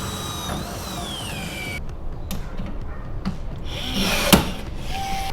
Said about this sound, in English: Now I need to drill out a hole on this underside to get that in attached to the frame.